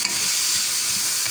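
Chicken chow mein vegetables with carrot stirred in a hot pan, a steady close sizzle and hiss with soft scraping of the spatula underneath, continuous with no voices.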